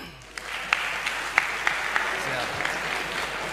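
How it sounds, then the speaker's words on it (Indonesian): Audience applause at a national police leadership dialogue event, a fairly soft spread of clapping from a crowd in a hall, with a few sharper, louder claps standing out over the steady patter for several seconds. "Tepuk tangan dulu."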